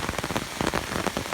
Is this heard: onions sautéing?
no